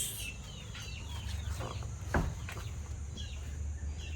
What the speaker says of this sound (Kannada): ಕೋಳಿಗಳು ನೋಡಿ ಬಂದು ಕಾಯ್ತಾ ಇದ್ದಾವೆ